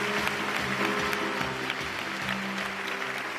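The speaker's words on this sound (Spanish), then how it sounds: "Un fuerte aplauso para Jesús Serrano." Audience at an outdoor town festival concert applauding the band's musical director, sustained clapping with a low musical hum and drum-like thumps running underneath.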